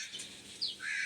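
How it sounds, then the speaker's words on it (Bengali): Crow calling from somewhere overhead at a rural home with ducks and chickens, giving two or three short, faint caws in just over a second. "কাক উপরে আছে।"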